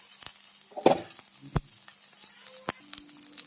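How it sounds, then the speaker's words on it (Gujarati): Garlic, ginger and onion dropped into hot oil, giving a few sharp close spits and crackles over a soft steady sizzle. "તો અહીં તેલ ગરમ થઈ ગયું છે હવે આપણે લસણ નાખીશું આદુની ઝીણી કચી કરી છે એ નાખીશું ડુંગળી એડ કરીશું"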